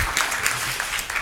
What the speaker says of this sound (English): please give a big round of applause to Chris Carswell